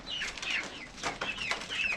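Backyard hens cluck and chatter in a flock nearby, with soft repeated calls and a bit of wing flapping, no talk over them.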